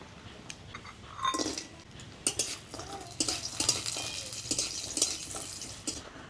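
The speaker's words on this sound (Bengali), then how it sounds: "এবারে মূলোর তরকারিটা রান্নার জন্য প্রথমে বড়িটা ভেজে নেব।" Dried lentil dumplings (bori) fry in a pan for a radish curry, with sizzling under repeated scraping and clinking of a metal spatula stirring against the pan.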